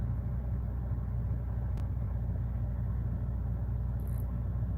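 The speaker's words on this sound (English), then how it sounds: "Hey, check out this truck here. Check out this truck." A Peterbilt truck engine rumbles low and steady, a faint, even drone that holds constant throughout, with a single brief click partway through and no talking.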